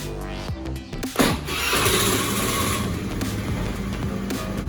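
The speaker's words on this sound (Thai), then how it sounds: "ขั้นตอนต่อไปทำการสตาร์ทเครื่องยนต์" A Scoopy i scooter engine cranks, catches with a sharp burst, then settles into a steady, close idle hum that keeps running.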